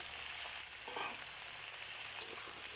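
Potato and pointed gourd pieces fry together in oil with a bay leaf. A continuous, even sizzle crackles up close, with faint stirring and no voices.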